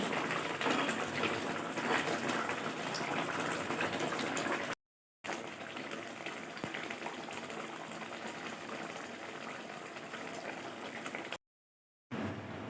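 Curry gravy simmers on a kitchen stove with a soft, steady bubbling hiss, fairly quiet and continuous apart from two brief silent gaps, with no voices.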